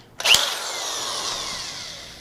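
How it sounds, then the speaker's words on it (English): Power drill fitted with a spade bit boring a hole, starting abruptly with a sharp bite and then a sustained high whine that slowly fades over about two seconds. "I use this drill specifically for spade bits"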